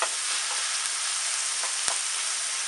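Onions and golden raisins sizzle steadily in a hot pan, a dense, even frying hiss with a faint click midway and no voices.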